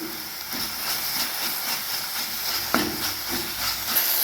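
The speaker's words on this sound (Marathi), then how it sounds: "एक चम्मच कोथिंबीर अद्रक आणि लसणाचं पेस्ट ते सुद्धा आपल्याला या मसाल्यामध्ये भाजून घ्यायचं आहे" Coriander, ginger and garlic paste roasting in a masala for a spiced cauliflower dish, a steady hiss of sizzling oil with a faint scrape partway through, no voices.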